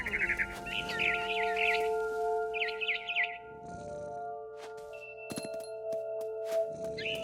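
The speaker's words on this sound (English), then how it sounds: "Then I heard chirping outside my window. It was a barn swallow going back to her nest." Barn swallow chirping outside a window in What Remains of Edith Finch, quick twittering bursts of bird calls close by, with a sustained tonal music bed and a few sharp chimes beneath.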